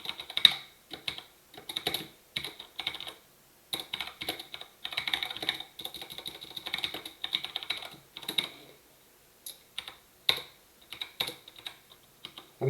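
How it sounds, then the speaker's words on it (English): Rapid clicking of keystrokes on a computer keyboard, typed in irregular bursts with brief pauses between them, fairly close and moderately quiet, with no voices. "it's messing up my typing"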